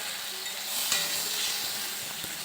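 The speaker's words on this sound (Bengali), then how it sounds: "দেওয়ার পরে এটাকে ভালো করে নাড়তে হবে, মানে একটু হলে ফ্রাই করতে হবে" Tomato, ginger paste and chopped onion fry together in a pan, crackling in a steady close sizzle while a spoon stirs and scrapes through the mix, with a sharper knock near the middle.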